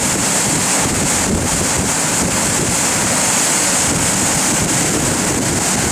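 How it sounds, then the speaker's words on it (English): The Cauldron Snout waterfall, swollen after recent rain, roars in a loud, unbroken broadband rush of fast-flowing water heard close up from the bottom of the falls. "As we can see here, Caldon Snout's a pretty impressive little waterfall."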